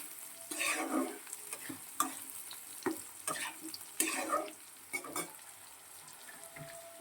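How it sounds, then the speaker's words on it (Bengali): Potatoes and onions frying in a pan, stirred with a spoon: bursts of sizzling and scraping in irregular strokes, fairly quiet and close. "আলু আর পেঁয়াজটা ভাজা হয়ে গেছে।"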